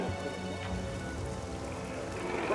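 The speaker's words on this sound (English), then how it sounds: "I just can't see with that rain and with it getting dark" Steady rain falling at an airshow, a dense, continuous hiss of drops that stays loud and even throughout, with no voices.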